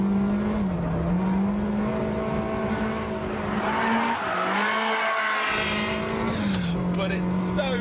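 Ferrari 360 drifting with its rear wheels spinning, the engine holding a loud, wavering high rev while the tyres squeal continuously. Someone talks over it throughout.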